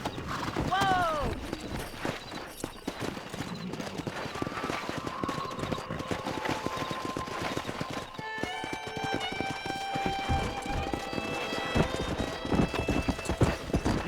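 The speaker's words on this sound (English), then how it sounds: "Let's see if we can't wrangle some horses." Horses clip-clopping in the Red Dead Redemption video game, steady hoofbeats running throughout with a whinny near the start and a game music score and voices layered over the top.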